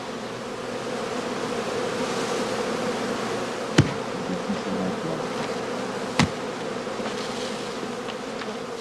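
Honeybees hum continuously around a heather skep hive in an autumn apiary, a dense steady buzzing swarm close by, broken by two sharp knocks.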